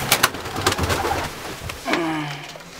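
Pigeons in a dovecote give a few soft, close coos after some brief rustling and flapping clicks, with no one speaking.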